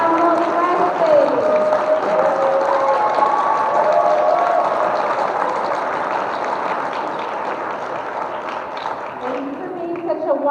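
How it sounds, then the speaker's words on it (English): A school audience gives sustained applause and cheering for John Wesley at a high school show, a dense, loud wash of clapping and voices that holds steady for about ten seconds before easing slightly. "Let's give a warm round of applause to John Wesley."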